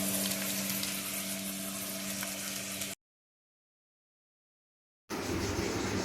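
Potato sambar masala with asafoetida fries in a hot pan, a steady, close sizzle with stirring that cuts out into silence for about two seconds and then resumes.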